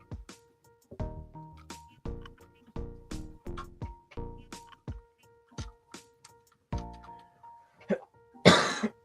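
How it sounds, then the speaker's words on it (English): Repeated short coughs and throat clearing, close and fairly quiet, broken up by small clicks and a brief rustle near the end. "Sorry, I keep coughing like a maniac."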